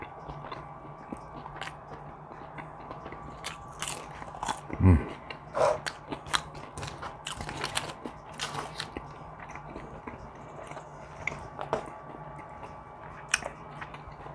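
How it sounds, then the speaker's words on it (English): Someone eating McDonald's chicken nuggets, with soft close bites and moist chewing, a few sharper crunches and a clear bite near the middle, in a quiet room without talk. "Let's have some nuggets."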